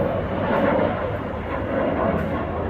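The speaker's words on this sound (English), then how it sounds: "Hold on, let me wait for this plane to fly by." A jet plane flies overhead near Virginia Beach, a steady broadband roar filling the short clip without pause, loud and close with no talking.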